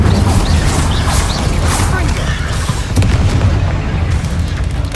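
Confringo fire spell blasts in Hogwarts Legacy, a dense, continuous roar of booming explosions and crackling debris that stays loud throughout with no gaps.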